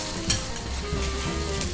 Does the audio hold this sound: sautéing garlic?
yes